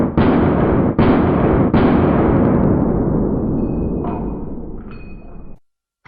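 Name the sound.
gunshots from one-handed pistol shooting practice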